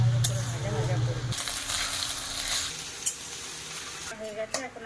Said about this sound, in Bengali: ভালো করে নেড়ে নেবো, ভাজবো, ভেজে নেবো ভালো করে